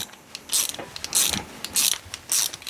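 Ratcheting torque wrench tightening bolts on an LS engine in a home garage, with bursts of rapid pawl clicks in several strokes, close and loud.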